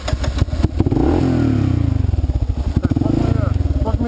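A Kawasaki KLR650 motorcycle engine revs hard at full throttle on a trail, rising into a loud, pulsing single-cylinder roar that stays close. Voices speak over the start.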